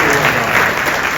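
A political rally audience for Vivek Ramaswamy breaks into applause, a loud, dense burst of clapping from a sizable crowd filling the whole brief moment.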